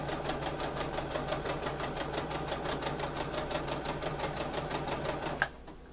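A sewing machine stitches a fabric trick or treat bag in a rapid, even mechanical chatter, moderately quiet and steady for several seconds before stopping with a small click.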